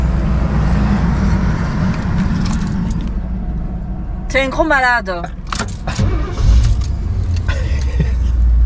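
A non-diesel truck engine cranks and catches quickly over a loud, constant vehicle rumble, with keys jangling and people talking nearby.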